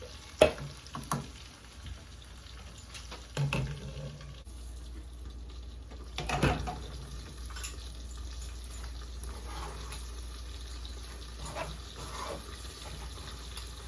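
Fried rice frying and being stirred in a pan, with a soft steady sizzle and a few sharp scraping knocks of the utensil against the pan, moderately quiet and close, no talking.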